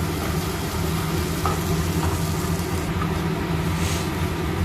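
Eggplant chokha being stirred and fried in a kadai, a steady, close sizzling hiss with faint scraping under it and no talking.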